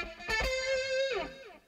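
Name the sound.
electric guitar solo sound through pedalboard effects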